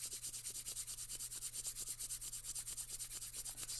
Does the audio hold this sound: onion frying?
no